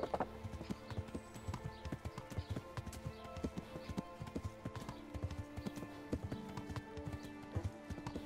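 Hooves clip-clop in a steady, busy rhythm with a horse whinnying in the game Kingdom Come: Deliverance, set against a constant ambient backdrop of game sound.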